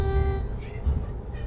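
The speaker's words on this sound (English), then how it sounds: "I got an air horn now!" A short, loud, steady air horn blast sounds at the start, followed by someone talking over low background rumble.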